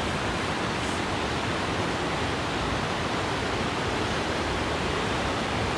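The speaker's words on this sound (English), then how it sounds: "Got the river." A river rushing beside a forest hiking trail in the Great Smoky Mountains, a loud, continuous broadband roar of flowing water heard up close, steady throughout with no voices.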